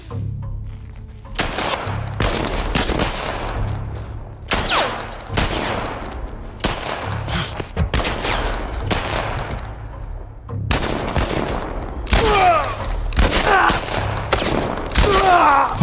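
Rapid volleys of gunfire crack out in The Last of Us Part 1 video game, loud repeated bursts of shots with brief pauses between them, and voices talk over parts of it.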